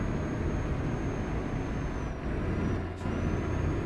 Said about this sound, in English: why doesn't move this damn truck?